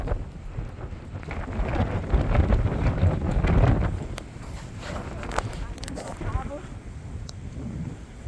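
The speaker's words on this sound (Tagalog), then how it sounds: "Malakas ang hangin dito sa kabila." Wind buffets the microphone in low, uneven gusts, strongest at first and then easing, with a voice speaking faintly underneath.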